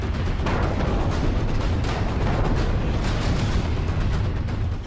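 Car bomb blast among traffic at a red light near the Red Fort in Delhi, an i20 car exploding, captured on CCTV as a loud, sustained booming roar with crackling debris and no voices.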